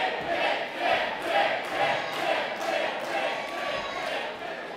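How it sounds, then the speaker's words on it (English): A wrestling crowd at an IHW event chants a single word in loud repeated bursts, rhythmic roughly once per second, filling a hall with no individual voices standing out. "I haven't heard a louder crowd yell that word than this place"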